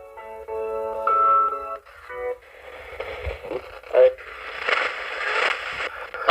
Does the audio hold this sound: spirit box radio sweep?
yes